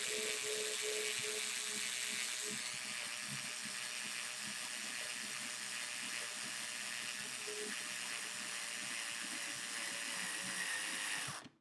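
A power tool runs steadily and loudly during the unboxing of a Newereal M18-S 3D printer, a continuous whirring drone with faint ratcheting clicks that holds for about eleven seconds and then cuts off abruptly.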